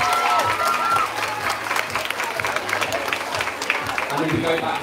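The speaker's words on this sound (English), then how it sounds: "Give them a big wave and a big round of applause" Audience applause in a hall at a children's under-5 and under-6 event, a loud, dense clapping from a crowd with some voices and brief cheers mixed in, continuing throughout.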